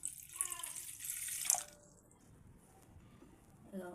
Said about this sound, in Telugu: బగోన్లే సగానికి నీళ్ళు పోస్తున్నా